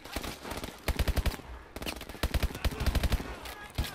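Rapid bursts of automatic gunfire ring out in Call of Duty: Advanced Warfare, loud and close, in dense repeated volleys with short pauses between them.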